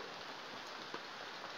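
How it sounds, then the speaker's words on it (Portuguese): Steady rain pours down in a constant dense hiss with no pauses, a few slightly louder drops landing close by and nobody speaking. "E a chuva não para."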